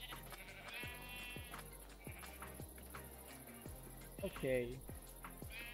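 Sheep bleat repeatedly in Minecraft with the Minecolonies mod, short calls spread across the scene and one louder bleat near the end, under soft game ambience with a brief spoken word.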